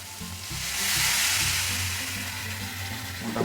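Chicken pieces sizzle in an uncovered pan as they are sautéed for chicken tehari, a loud, continuous frying hiss with a low cooking rumble underneath and no voices.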